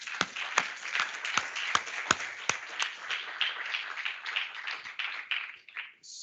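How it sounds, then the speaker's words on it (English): Workshop audience applauding panelists at a zero-emission bus event in London, a burst of mixed individual claps from a modest group, some sharp and near, thinning out and fading toward the end. "Can we give them a round of applause?"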